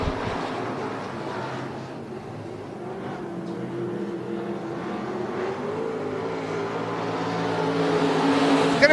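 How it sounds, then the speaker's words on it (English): IMCA Modified race cars roaring around a dirt speedway during a heat race at night, a dense pack of engines droning steadily from a distance, swelling louder toward the end. "We're underway with heat race number two for the IMCA Modifieds."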